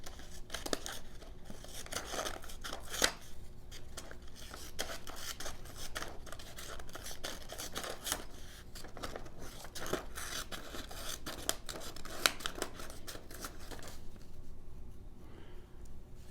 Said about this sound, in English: I'm going to try these scissors here, just again, copy paper.